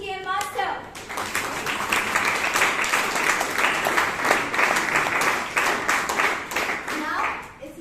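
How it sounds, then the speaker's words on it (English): Audience at a Bangalore Toastmasters meeting gives a round of applause for the TTM master, a dense, steady burst of clapping that fills the clip after a brief voice at the start and tapers off at the end. "I would request you to give a round of applause for our TTM master."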